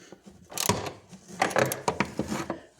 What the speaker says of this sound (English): Not a lot of room to swing a wrench here, so I'm just going to break these loose.